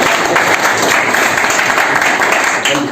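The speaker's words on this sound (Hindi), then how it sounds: "इनके लिए जोरदार तालियां" An audience gives loud, sustained applause, dense and steady clapping throughout, with no talking over it.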